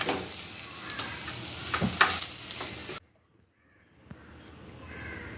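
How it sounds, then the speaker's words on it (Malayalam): Chopped shallots fry in oil for a fish curry with tomatoes, giving a steady sizzle under a crow's caw. After an abrupt cut, a much fainter background follows. "എണ്ണ ഒഴിച്ചിട്ട് ഇത്തിരി നമുക്ക് ചെറിയ ഉള്ളി ഒരു പത്തെണ്ണം എടുത്തിട്ട് അത് അരിയണം അതും ഇതിലേക്ക് ചേർക്കാം"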